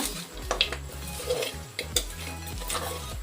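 Goat leg pieces being stirred in a cooking pot, giving scraping, clattering utensil-on-metal sounds in short bursts at close range, with a faint sizzle underneath and no talking.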